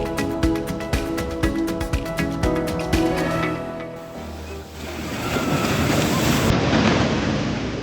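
Ocean surf rolls and breaks on Kovalam Beach in Kerala as fishermen's boats set out, a steady loud wash of waves with gusty wind noise, after an earlier stretch of rhythmic tapping and music-like tones.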